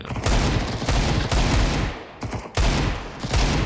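Counter-Strike 2 gunfire in a rapid, loud burst of repeated shots that pauses briefly near the middle and then resumes, with no talking.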